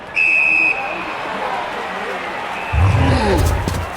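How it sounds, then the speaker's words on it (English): A referee's whistle in the fantasy football game Blood Bowl: a shrill blast near the start, followed by a sustained tone and then a low rumbling crowd-like surge near the end. "The referee, a skeletal figure draped in a black robe, blew the whistle to start the match"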